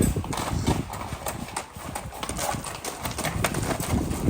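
Pack mules on a canyon trail to the Havasupai village, hooves clip-clopping in a steady, uneven patter close by, with no talk over them.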